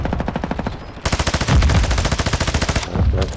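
Rapid automatic gunfire from Call of Duty, loud and close, with repeated bursts hammering in a steady rhythm throughout and a short break in the middle.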